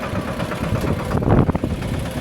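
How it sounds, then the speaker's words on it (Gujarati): A tractor engine runs steadily on a farm field, a loud, rough low-pitched rumble with uneven knocking pulses and a brief surge in the middle. "ટ્રેક્ટર"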